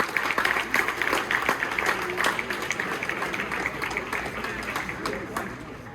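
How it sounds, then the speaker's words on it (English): Audience at a 9th grade baseball banquet claps in a steady, moderately loud round of applause that slowly tapers off over several seconds, with scattered voices beneath. "So give a round of applause for that 9th grade group."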